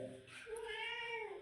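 A small kitten gives a single thin, rising meow, faint and close, in a quiet room.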